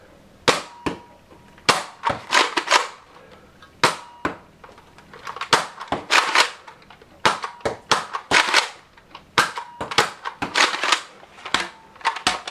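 A Nerf Elite Rough Cut 2x4 blaster fires foam darts one shot at a time. The sharp snapping pops come close and loud in uneven clusters with short pauses between volleys.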